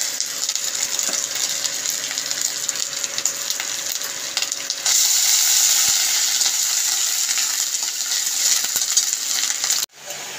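Ginger paste sizzling in hot oil in a pan for a cabbage curry, a loud continuous crackling hiss that swells louder midway with faint stirring clinks, then cuts off abruptly near the end.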